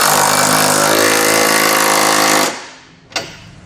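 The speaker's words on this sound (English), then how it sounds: "We're going to start with our side bolts and use a 17mm socket to tighten those down." A power tool with a socket tightens Curt trailer hitch side bolts on a 2019 Honda CR-V, giving a loud, close, steady rattling buzz that stops abruptly, followed by a brief final burst.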